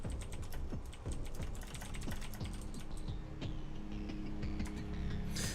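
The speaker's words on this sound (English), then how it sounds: "Busy typing." Rapid computer keyboard typing clatters steadily and close up during a live StarCraft 2 esports broadcast, with dense key clicks over a constant background hum.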